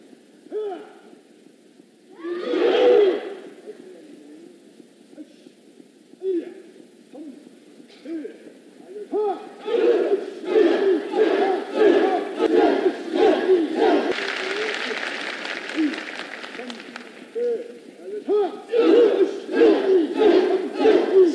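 Karate demonstration on a stage at a song contest event, with sharp shouted kiai cries ringing out alongside thuds and stamps, then a sustained stretch of crowd noise and cheering.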